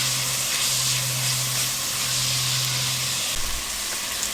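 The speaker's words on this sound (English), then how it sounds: "we're just going to cook these onions about 5 minutes until they're" Onions with salt and pepper sautéing in a pot for a sweet potato beef stew, a loud steady hiss and sizzle that holds throughout with a low hum underneath and no talking.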